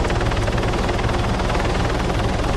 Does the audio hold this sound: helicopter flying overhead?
yes